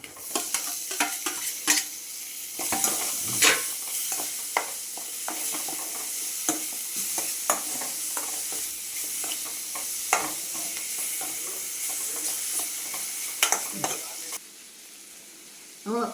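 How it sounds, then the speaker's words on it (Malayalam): Onions and tomatoes sauté in a pan for chammanthi, sizzling steadily while a spoon stirs and scrapes against the pan in irregular strokes. "ഉള്ളി വഴഞ്ഞു, ഇനിയും നമ്മൾ തക്കാളി ഇട്ട് വഴറ്റുക."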